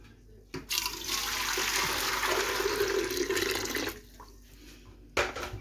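Water is poured back into a cooking pot as a steady, close splashing rush lasting about three seconds, followed by a few faint clinks.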